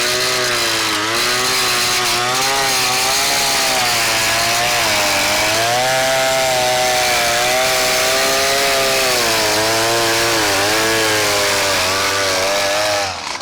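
A small two-stroke Powermate wheeled string trimmer engine idles loudly and continuously nearby, its pitch wavering up and down slightly in a steady, rough drone.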